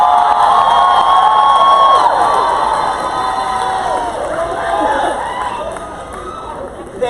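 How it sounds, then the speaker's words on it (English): Graduation ceremony audience at Stillman College cheering and shouting with some applause, a loud, dense crowd roar that stays strong for several seconds then eases slightly, with voices rising out of the noise. "let's thank them with some applause"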